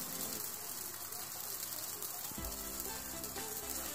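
A Moroccan msemen crêpe cooks in a pan with oil or melted butter, giving a faint, steady sizzle throughout, with a low hum entering partway through.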